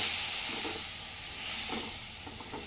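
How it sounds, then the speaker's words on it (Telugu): Fenugreek leaves fry in a pan for a Telugu-style chutney, giving a steady, faint broadband hiss and sizzle that runs continuously at low level with no talk. "మెంతెం కూర వేసేసుకొని కొంచెం మంచిగా వేయించుకోవాలి మెంతెం కూర కూడా"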